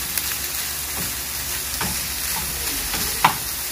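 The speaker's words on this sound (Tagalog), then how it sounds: "Gisayin natin yung chicken." Chicken sautés in a hot pan with a steady sizzle, broken by a few scraping stirs and one sharper clack, close up and with no voices.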